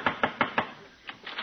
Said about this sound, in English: what are you knocking again for?